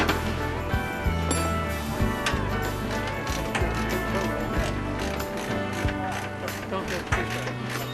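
A socket wrench ratchet clicks rapidly and closely amid dense mechanical clatter at a glider club hangar, with voices in the background.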